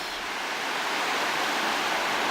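Waves wash back and forth over cold shore water in a cove on an Easter weekend, a steady, dense broadband roar of surf that stays even and close throughout with no voices.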